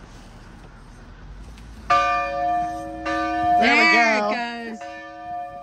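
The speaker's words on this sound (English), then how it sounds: "That was the closing bell." The Dahlgren Chapel church bell at South Mountain, Maryland, rings out loud and clear in sustained metallic strokes with a long ringing decay, while people talk briefly over it.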